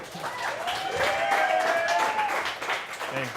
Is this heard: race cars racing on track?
no